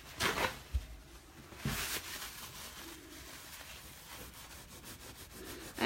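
Soft rubbing and scrubbing sounds from wiping chalk paste off a surface with damp paper towel, with a few louder swipes at the start, close and quiet.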